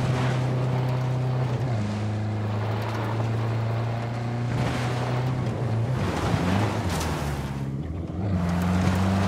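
Boat motor droning steadily over water in the Ghost Recon Breakpoint video game, with a continuous low engine hum, shifting pitch and splashing wash, loud and close throughout.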